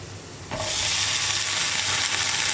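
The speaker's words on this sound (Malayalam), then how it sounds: "നമുക്കിതിലേക്ക് നമ്മുടെ വഴുതനങ്ങ കട്ട് ചെയ്തത് ഇട്ട് കൊടുക്കാം." Chopped brinjal dropped into a pan of hot spices sets off a sudden loud sizzle that keeps hissing steadily while it is stirred, close up.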